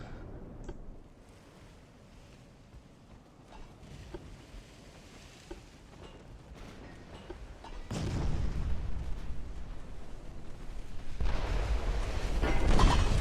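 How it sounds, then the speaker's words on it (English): Battleship 9-inch guns fire in Ultimate Admiral Dreadnoughts, a low rumbling background that swells into loud, booming blasts in the final seconds. "we're going to start firing our guns"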